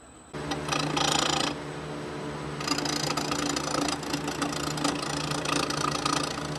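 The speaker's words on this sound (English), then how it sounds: "I'm going to start off by just making it round by using a rough and gouge." A wood lathe spins a Christmas ornament blank while a roughing gouge rounds it, giving a steady machine drone with a louder scraping cut at the start and a continuous rough rubbing hum after that.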